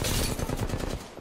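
Sustained automatic gunfire in Apex Legends, loud rapid shots rattling in a dense stream that tapers off at the end.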